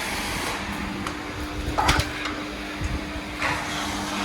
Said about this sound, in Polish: jakiś stary, stary typ pralki